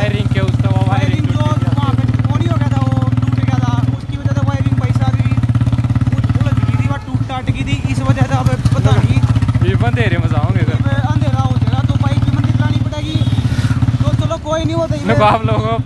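A motorcycle with a damaged headlight is ridden slowly, producing a steady, loud mid-pitched engine drone throughout. Someone talks continuously over it.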